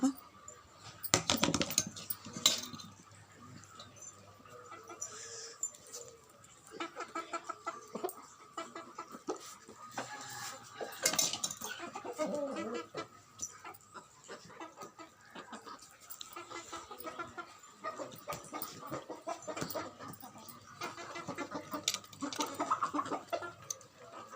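Backyard chickens cluck and scratch at rice mixed with mango pickle while being fed, with scattered pecking taps, soft clucks throughout and someone talking over them at close range.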